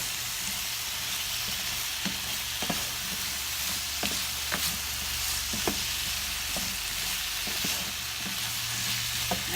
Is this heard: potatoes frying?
yes